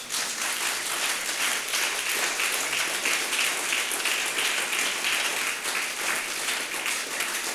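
A church congregation applauding and cheering in praise, dense sustained clapping that stays loud and even for several seconds, with scattered voices mixed in.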